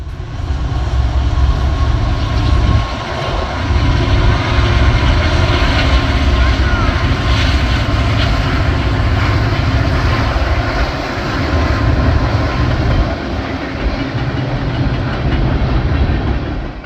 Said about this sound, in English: here's 3 of them leading Norfolk Southern Train 11R